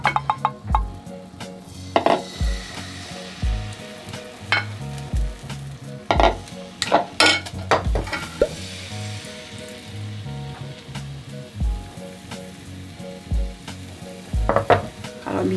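Risol crepe batter poured into an oiled non-stick pan hisses with a steady sizzle, broken by scraping stirs and occasional light clinks of utensils against the pan.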